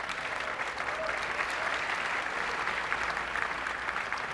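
Audience applause at a tech conference opening keynote: a continuous wash of clapping from a large crowd, even and sustained, heard at a moderate distance without talk.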